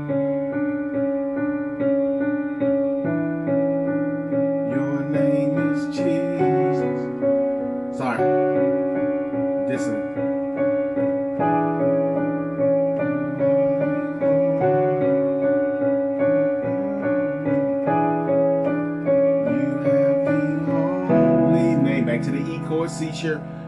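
Piano chords from "I Call You Jesus" by Israel and New Breed, the left hand holding an E in the bass while the right hand bounces between voicings; steady, close playing for over twenty seconds with a brighter shift near the end.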